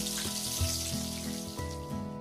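Tofu pieces sizzle and crackle steadily in hot frying oil, a dense continuous hiss close up with no talking.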